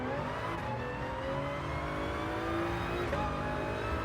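A Gr.3 race car in Gran Turismo Sport pulls hard on the throttle at Autodrome Lago Maggiore East, its engine note climbing steadily in pitch as it accelerates, loud and close, with no talk over it.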